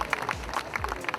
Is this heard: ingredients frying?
no